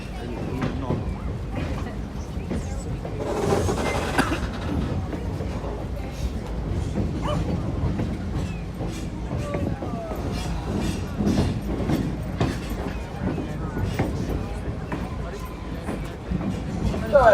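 Skunk Train rolling through redwood forest, a steady rumbling clatter of wheels on track heard from aboard, continuous and fairly loud with occasional creaks, under intermittent talk.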